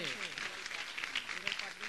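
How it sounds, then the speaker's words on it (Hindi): Audience applause at a religious discourse gathering, a dense wash of clapping filling the short moment while a voice speaks over it. "मैं चाहूंगा कि एक बार जोरदार करतल ध्वनि से हम ऐसे"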